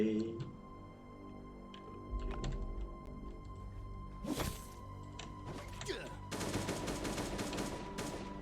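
AK rifle fire in the survival video game Last Day on Earth: Survival, with a few separate sharp shots followed by a rapid burst toward the end, all fairly quiet beneath a person talking.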